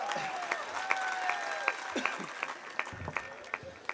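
An audience at a Hindi poetry recital claps along in a steady rhythmic beat, fairly faint and distant, beneath a voice reciting or singing verse.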